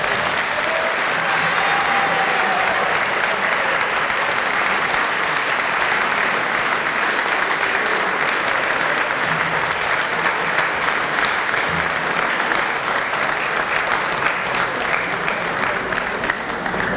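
Sustained applause at a hall of fame induction banquet, a dense, even clapping from a large room that holds steady throughout.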